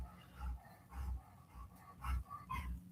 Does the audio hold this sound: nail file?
no